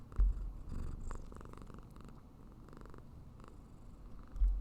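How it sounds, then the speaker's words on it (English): A cat purrs softly up close, a low rhythmic rumble pulsing gently with each breath, quiet and steady. "She purrs."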